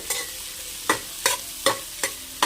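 A spoon scrapes and stirs brinjal fry in a hot pan, six sharp strokes at a steady rhythm over a soft sizzle, close by with no voices.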